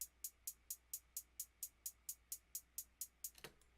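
Trap hi-hat programmed in FL Studio in a steady 2-step pattern, about a dozen crisp evenly spaced ticks ending in a quick roll, faint and alone.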